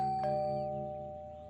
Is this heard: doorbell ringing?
yes